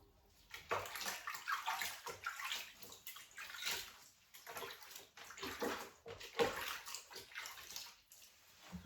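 Water sloshes softly and irregularly in a bath while a hairless sphynx cat is bathed, quiet splashes and swishes coming in small uneven waves.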